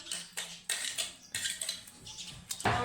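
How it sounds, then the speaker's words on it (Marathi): Besan being mixed into corn vada batter in a metal vessel, with close, intermittent bursts of spoon scraping and clatter separated by short pauses, the last burst the loudest. "भांड्यातलं सगळं काढून घ्यायचं त्यात कालवायचं बेसन"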